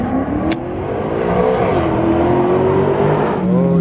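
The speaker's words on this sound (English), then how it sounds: "That sounded so good with just an X pipe. The rest of the exhaust is stock." A Maserati engine with an X pipe, a stock exhaust and the mufflers bypassed revs loud and close in a steady droning roar that rises in pitch, dips, then climbs again.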